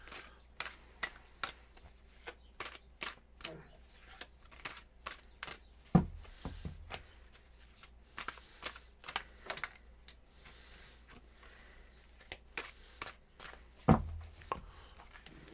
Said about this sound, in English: I'm going to start shuffling this deck and get those cards all cleansed for you